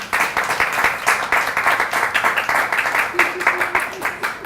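Audience applause for Dr. Yolanda Abel at an education speaker series event, a steady round of clapping from a seated crowd filling the whole stretch, with voices faintly audible beneath.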